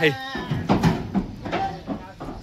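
Goats bleat several times in short wavering cries, close by, with people talking over and between the calls.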